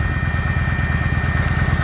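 A 2007 Kawasaki VN900 motorcycle with low mileage idling up close, a loud steady low rumble with an even pulsing beat and no talking.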